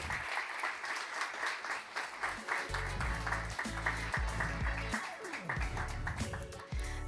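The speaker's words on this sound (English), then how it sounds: "Come in front and give them a warm applause." An audience at a digital education hackathon's main stage event breaks into loud, steady applause, a sustained wash of many hands clapping that keeps going throughout with no speech over it.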